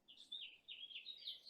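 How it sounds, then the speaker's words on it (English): A wild bird outside a window gives a run of high, thin chirps and twittering notes, faint and slightly distant, carrying on steadily with no talking. "That bird is crazy."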